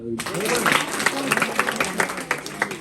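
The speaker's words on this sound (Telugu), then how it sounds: "క్లాప్స్ కొట్టాను" A group of high school students applauds with dense, continuous clapping while a voice talks over it during a fire safety awareness session.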